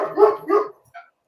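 A dog barks twice in close succession, fairly loud and near, followed by a short softer yip, with no speech over it.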